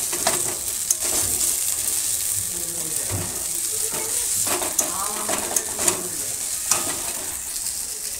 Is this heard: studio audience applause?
no